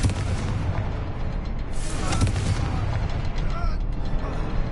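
Confringo spell explosions in the video game Hogwarts Legacy, a dense, continuous rumble of booming blasts and impacts, loud throughout with game noise layered over it.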